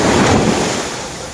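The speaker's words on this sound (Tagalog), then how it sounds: "grabe talaga yung alon, napakalakas" Strong sea waves crash loudly at a beach with heavy wind buffeting the microphone, the roar surging at first and then easing slightly.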